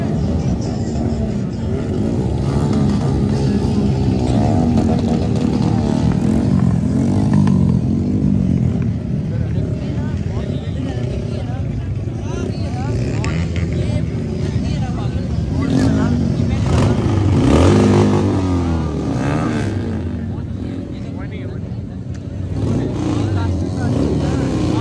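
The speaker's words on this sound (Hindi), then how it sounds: "लोग बाइक साइकिल आ रहे हैं अभी से" Motorcycles at a heavy bike meet at a university: engines idle and rev throughout, swelling loudly at times amid crowd chatter and people talking nearby.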